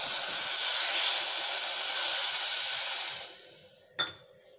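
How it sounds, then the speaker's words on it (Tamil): Jaggery and a little water boil into syrup in a pan on a stove, giving a steady, close hiss that fades near the end before a brief clatter. "நம்ம வந்து வெல்லத்தை பாகு காய்ச்சிரலாம்"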